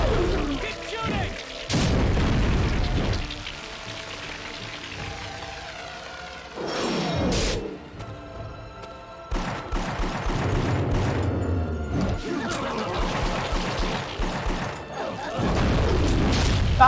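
Magnum rounds fired in a video game, several heavy booming shots with ringing tails and mechanical clatter between them, loud and spaced across the stretch.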